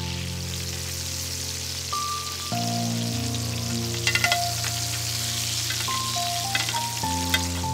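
Quartered mushrooms sizzle in a hot pan with leftover lamb fat and spices, a steady close crackling fry with a few sharper pops over a sustained musical tone.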